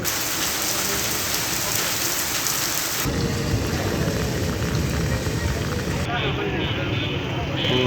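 Heavy rain pours steadily in Jhenaidah after a heatwave, a dense continuous roar with thunder rumbling beneath it, close and loud throughout, its texture shifting partway through.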